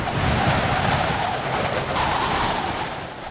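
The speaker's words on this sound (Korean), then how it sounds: "바닷바람이 매섭다." Fierce sea wind and crashing waves on the coast of Uido island, a steady, loud, close roar of rushing air and surf that holds throughout without a break, easing slightly near the end.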